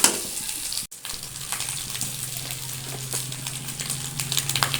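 Sliced rounds of sponge gourd (patola) drop into a pan with fish simmering in broth, a brief clatter followed by steady bubbling and a soft sizzle that continues close by without talk.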